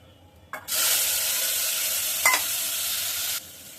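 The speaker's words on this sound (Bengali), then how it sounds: "মিষ্টি জিরাটা যখন ফুটবুর করে ফুটে উঠছে, এটাকে আমি আমটা ছেড়ে দিব" Fennel seeds and mango hit hot oil with a sudden loud, steady sizzle that holds for about three seconds, then cuts off, with a brief clatter partway through.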